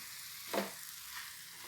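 Chopped ridge gourd stirred and sautéed in a pan, a steady sizzle with one brief scrape of the spoon, close and alone.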